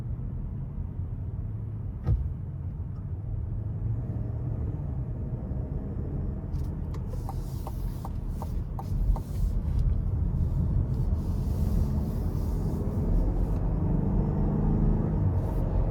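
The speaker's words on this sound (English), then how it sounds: "as you start to let off the throttle, it's less quick to shift" A 2023 Buick Envision Essence in sport mode on a road drive, its engine a steady low rumble inside the cabin that swells as it shifts, with a faint click near the start and a series of light ticks midway.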